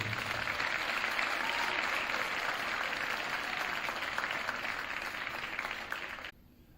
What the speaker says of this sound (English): Round of applause for swimming team.